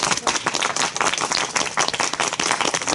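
Dense applause from an audience packed together, steady clapping running the whole stretch, loud and close, with a few voices mixed faintly into the crowd.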